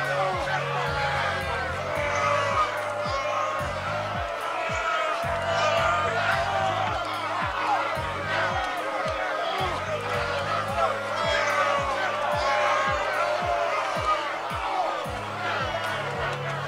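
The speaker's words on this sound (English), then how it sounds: "Some great crowd noises." Crowd noise from the video game Tales of Vesperia, a continuous murmur of cheering and babble over a rhythmic, pulsing game music bed, moderately loud throughout.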